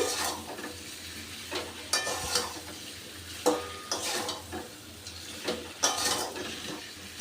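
Fried fish and fried potatoes sizzle in a pan with spices while a utensil scrapes and stirs, giving irregular scraping strokes over a soft steady frying hiss, close and fairly quiet.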